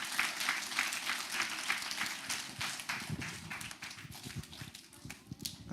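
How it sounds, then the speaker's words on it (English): Audience applause for a speaker at a primary school gathering, a steady wash of clapping lasting throughout with some louder individual claps near the end and faint voices mixed in. "Let's give him a rousing round of applause."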